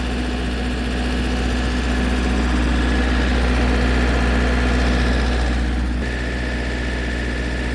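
A rebuilt MEP-803A diesel generator drones steadily nearby, a constant low rumble with a mechanical hum, its tone shifting slightly near the end.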